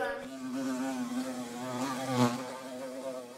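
A housefly buzzes continuously in an animated cartoon, a steady droning hum with a wavering pitch that rises slightly in loudness near the end, heard alone without talk.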